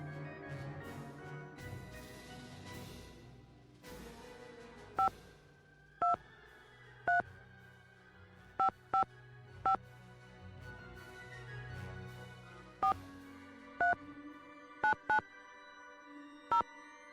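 Telephone dialing tones in the Nancy Drew haunted carousel game, a series of short, sharp beeps spaced irregularly over a soft musical background.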